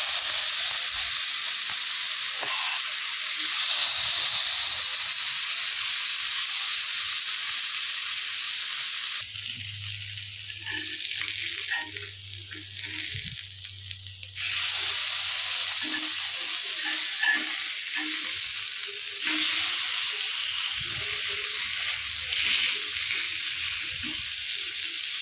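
Marinated fish sizzles and spits on a hot tawa, a steady bright hiss of frying oil that briefly quietens in the middle as low clattering and handling noises come through, then rises again.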